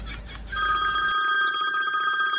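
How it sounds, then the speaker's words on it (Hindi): A telephone ringing loudly and close, a bright electronic ring that starts after a short bit of background noise and sustains. "फोन बज रहा"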